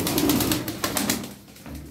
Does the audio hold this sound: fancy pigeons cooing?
yes